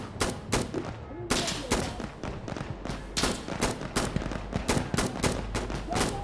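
Rapid bursts of gunfire in the Insurgency video game crack out repeatedly, a steady rhythm of sharp close shots and rattling automatic fire over several seconds.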